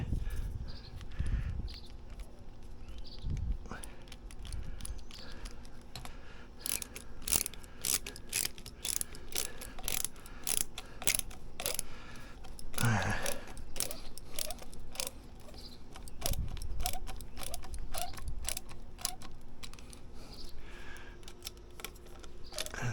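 A ratchet wrench tightens bolts while a wicker rocking chair is assembled, producing bursts of rapid, close, crisp clicks with brief pauses and a few handling knocks.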